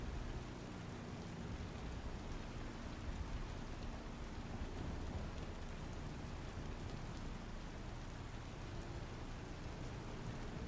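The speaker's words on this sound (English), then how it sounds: "it looks like it is raining like crazy over here" Heavy rain in the Star Citizen video game, a dense, steady hiss of downpour that stays even and unbroken throughout and sounds faint and distant.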